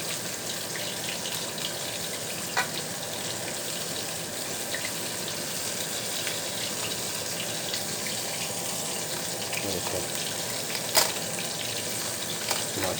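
Coated zinger chicken pieces fry in hot oil with a dense, steady sizzle and crackle, close and continuous, with a few sharp pops and clinks over it.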